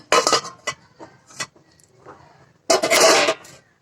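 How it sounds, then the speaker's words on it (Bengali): A metal lid comes off a cake pan with a few close clattering clinks, then a longer, louder burst of metallic rattle near the end. "চল্লিশ মিনিট পরে আমি ঢাকনাটা খুলে নিলাম"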